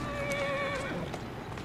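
A horse in Assassin's Creed Syndicate lets out one clear whinny with a wavering, falling pitch over steady background game ambience and faint clip-clop, no talk.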